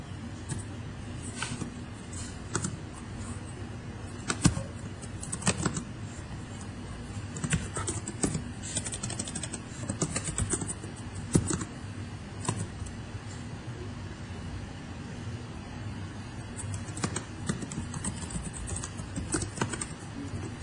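Light, quick keystrokes on a computer keyboard tap away in irregular bursts, close and fairly quiet, with no talking over them.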